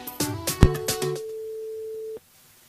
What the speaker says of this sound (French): On rappelle la personne en direct, Anaïs, donc sur le standard pour un débrief